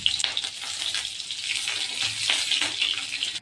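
Cumin, dried red chilies, green chilies and onion fry in white cooking oil, giving a close, continuous crackling sizzle that stays busy and fairly loud throughout.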